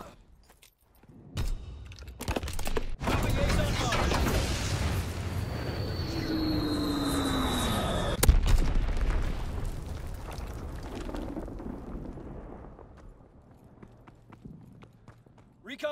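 A bombing run in a WWII video game: a sustained, heavy broadband rumble of aircraft and explosions builds after a sharp onset, with a passing whine and a loud crack midway before fading out.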